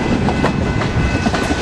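A Canadian Pacific road freight, train 252, mostly carrying wood products on bulkhead flats, passes close by in a snowstorm, with a loud continuous rumble, rhythmic clickety-clack of wheels over rail joints and squealing metallic tones.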